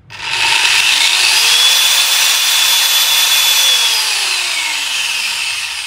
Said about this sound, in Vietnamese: Khi máy cắt chưa đạt được tốc độ tối đa thì nước đã bắn ra rồi, cho nên là nó rất là nhanh.